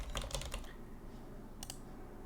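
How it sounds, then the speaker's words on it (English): Quick bursts of key clicks on a computer keyboard, a short cluster of taps at the start and another brief pair later, faint and close against a low background hum. "then I can go ahead and type into it"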